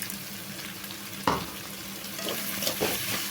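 Tomatoes and chicken sautéing in a pan, a steady frying sizzle with a few stirring scrapes and spoon knocks, close and loud with no talking.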